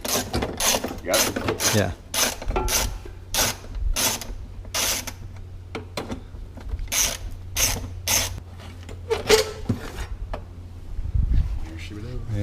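Ratchet clicks in quick bursts while transmission covers come off a BMW M3 during a manual gearbox fluid service, close up with brief remarks from people working nearby.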